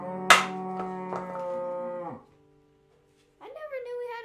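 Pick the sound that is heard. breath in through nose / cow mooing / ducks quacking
cow mooing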